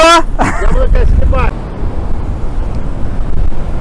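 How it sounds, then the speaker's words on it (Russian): Giant storm waves surge and roar against a damaged seafront in Crimea, a loud, broad rushing wash mixed with wind buffeting the microphone, after a voice calls out briefly at the start. "Идут гигантские волны."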